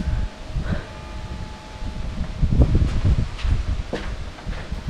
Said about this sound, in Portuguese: Pessoal, tá ventando muito aqui.